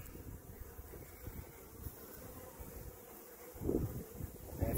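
A steady, low buzz of honeybees around a mating nuc hive, with occasional louder swells as insects pass close to the microphone, mixed with some wind noise.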